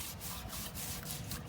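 A trowel smears a waterproofing coat across a concrete roof deck in steady, rhythmic rubbing strokes, a close scraping texture repeating about every quarter second.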